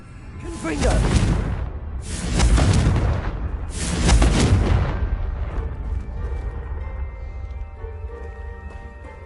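Explosion spell blasts from the Hogwarts Legacy video game, three loud booming bursts with a rumbling tail, close, followed by fading rumble and faint music.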